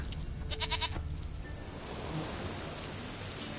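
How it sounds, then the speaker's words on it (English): A goat bleats in The Witcher 3 in the Velen region: a short, nasal, wavering bleat early on, followed by a steady, rain-like wash of outdoor ambience. "Here, goat."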